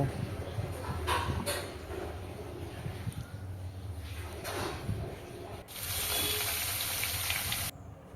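Cut ridge gourd pieces being rinsed in a bowl of water, with close rubbing and splashing and a steady run of tap water near the end.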